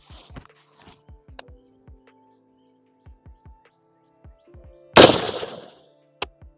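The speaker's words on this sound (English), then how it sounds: "So at 100 yards, we're shooting at a 7-inch square plate." A single sharp crack from an MK18 Mod 0 rifle fired at a steel plate 100 yards out, loud and abrupt, after a stretch of faint shuffling and quiet thumps.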